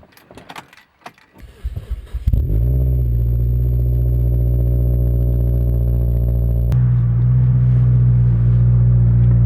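Car engine with a loud exhaust, starting after some brief clatter and settling into a steady, loud, droning idle with a deep rumble that shifts in tone partway through.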